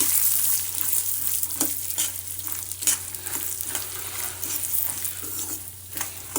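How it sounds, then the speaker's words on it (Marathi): Solapuri peanut chutney mixture roasts in a pan while being stirred, a loud close sizzle with repeated scraping strokes of a spatula, continuous without talk. "आता याला आपण एक मिनिट आणखीन भाजून घेऊया"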